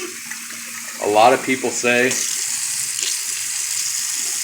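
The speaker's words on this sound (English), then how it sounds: "we're just going to fill it up with warm water" Warm water runs from a kitchen sink tap into a container for mead, a steady close stream that continues under a short spoken phrase and then carries on alone.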